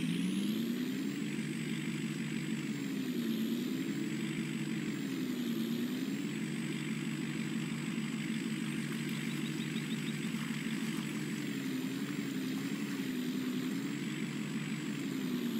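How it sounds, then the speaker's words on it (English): A truck in Farming Simulator 19 drives through water, its engine a loud, steady drone with a wavering high whine that dips and rises, running unbroken with no voices. "There's no way I'm making that truck through the water."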